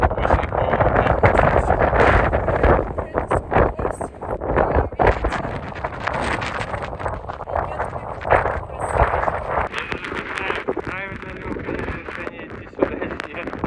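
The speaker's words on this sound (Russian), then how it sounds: "Зря мы надеялись, что в кратере не будет ветра." Strong wind gusting inside a volcanic crater on Pico in the Azores, loud buffeting roar against the microphone in uneven bursts, with people speaking over it.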